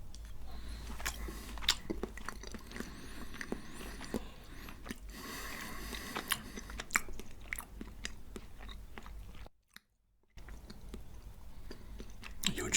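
Close, intimate chewing of Japanese sashimi during a seafood mukbang, with soft, wet, steady mastication and small squishes throughout and a brief moment of near silence, no talking.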